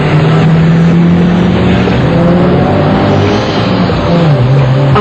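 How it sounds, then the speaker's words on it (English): Two cars street drag racing flat out on a Toronto street, their engines roaring loud and close in one continuous surge while the pitch climbs and shifts under acceleration. "2 cars line up head-to-head. The flagger, or starter, drops his arms, and the race is on."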